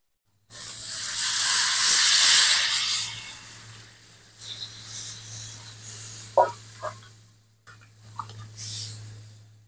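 Water is poured into a pot of simmering chicken and potatoes, bursting into a loud steaming hiss, followed by scattered sizzles and stirring clatter that fade to quieter bubbling.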